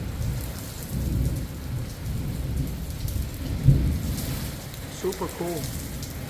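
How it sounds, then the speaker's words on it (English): Thunderstorm outside, steady rain hiss with a low rumble of thunder around the middle, while a person speaks briefly near the end. "So it's storming outside."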